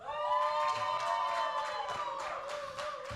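A crowd at a conference stage cheers and claps, a sustained wash of shouting voices with scattered handclaps, moderately loud and continuous throughout.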